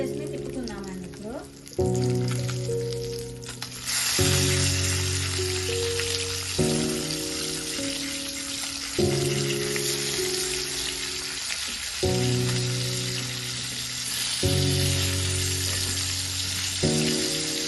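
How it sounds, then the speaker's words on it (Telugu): Fish pieces frying in hot oil give a steady, close sizzle with crackling spatter, running continuously under background music. "పీసెస్ని వేసుకున్నామండి ఆయిల్లో."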